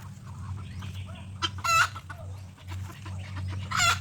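Backyard chickens clucking in two short, fairly close bursts over a steady low rumble, with a quieter stretch between them.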